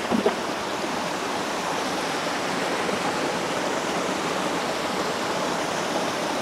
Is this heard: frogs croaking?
no